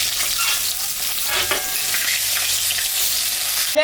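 Rohu fish pieces sizzle in hot mustard oil with turmeric, a loud, steady frying crackle that fills the whole stretch, with a brief stir or shift of the pan midway and no talking.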